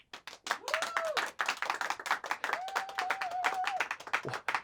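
Audience clapping greets a comedy host's introduction, a crisp scattered applause with a few whoops or whistles rising over it, moderately near.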